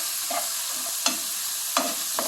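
Soft continuous sizzle of tomatoes sautéing in a pan for cauliflower and pea stir-fry, with a few clinks of a utensil stirring, close and alone.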